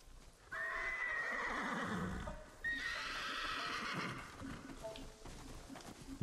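A horse in the samurai video game Ghost of Tsushima whinnies loudly and close twice, with hoofbeats clopping between the neighs.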